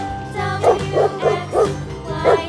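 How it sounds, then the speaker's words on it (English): A dog gives about five short, rhythmic barks and yips at an even pace, loud and close, over the steady backing music of a children's alphabet phonics song. "D for dog."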